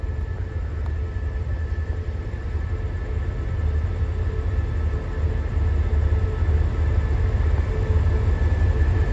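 Long-distance express train at Bangkok Hua Lamphong station, heard as a steady low rumble and idling hum filling the station, with a constant tone and no voices.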